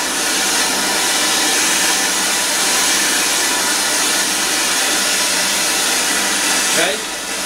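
A heat gun blows steadily on a stuck through bolt of a Hayward Super Pump, a loud, even, close roar of rushing air that cuts off abruptly near the end.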